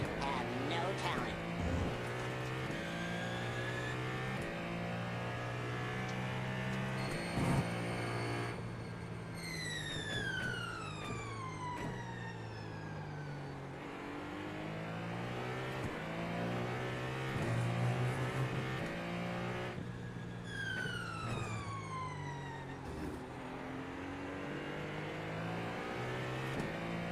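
Ferrari 499P race car engine in a racing game, revving hard through the gears with repeated upshifts, braking downshifts and re-acceleration, loud and close throughout, with voices talking over it.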